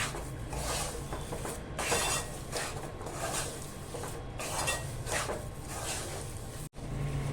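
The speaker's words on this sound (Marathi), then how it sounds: "बारीक गॅस करून आहे ना आपण हे मिश्रण सतत ढवळत राहायचं आहे" Green moong and fenugreek laddu mixture with jaggery, roasting in ghee, is stirred continuously in a pan over a low flame, giving a steady, close scraping and rustling texture with repeated strokes throughout.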